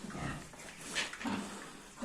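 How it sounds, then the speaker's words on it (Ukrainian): Soft grunting and squealing of young pigs, close by, in short overlapping bursts with no talking. "Ну, от такі поросятка. Гарненькі поросятка."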